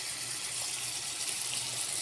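Water is poured from a tap or container into soy sauce and calamansi in a cooking pan, shown as a steady, fairly loud hiss-like stream for two seconds with no talking.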